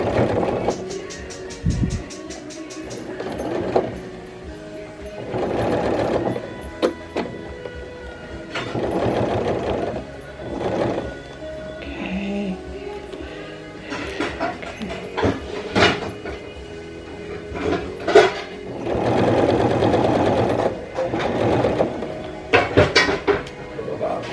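A sewing machine back-stitching patch fabric onto a jean skirt, running in several separate bursts with pauses between them, alongside clinks and handling noises and some quiet talking.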